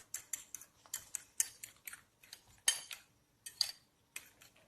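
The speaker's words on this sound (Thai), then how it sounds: "ช่วงที่รอไฟร้อนก็ตีไข่ ตีไข่ค่ะ" Quick, irregular clinking taps of a utensil against a bowl, close by, in short rhythmic bursts as eggs are whisked for a Thai omelette.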